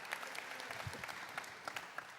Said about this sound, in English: You don't have to clap.